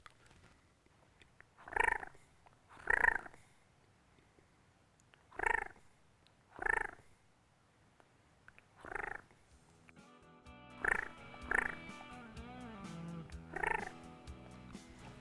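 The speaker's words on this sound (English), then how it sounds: "It's hard to make a nice, soft, subtle purr. And here's how you do it on a mouth call." Soft turkey purrs made on a diaphragm mouth call, a series of short rolling bursts spaced a second or so apart, alone and close, with a longer run of slightly rougher purring calls toward the end.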